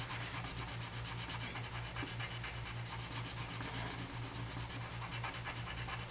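A Staedtler coloured pencil shades quickly back and forth on paper, a quiet, close, continuous scratchy rubbing with an even rhythm and no talk.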